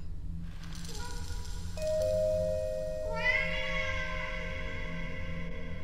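A cat meows several times indoors, drawn-out tonal cries that rise and overlap near the mic over a steady low hum, with no talking.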